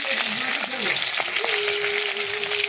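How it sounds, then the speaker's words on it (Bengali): Hilsa fish frying in a pan: a loud, close, continuous crackling sizzle fills the short clip, with a faint steady tone drifting underneath. "ইলিশ মাছ ভাজতে দিয়েছি"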